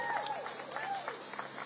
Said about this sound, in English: Give Elias a big round of applause.